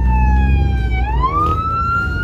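A police car siren wails at a car meet being busted, its pitch sweeping down and then rising again over a low rumble of idling engines, loud and close with no talking.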